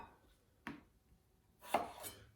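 Two or three quiet knife chops land on a cutting board as food is cut into smaller pieces, each a brief dull knock with short pauses between, close by and without talk.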